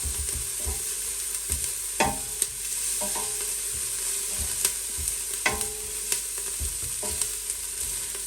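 Onion fries in a pan for lentil soup, browning to a golden color with a continuous sizzle. Sharp clinks and scrapes of stirring break in every second or so, and no one speaks.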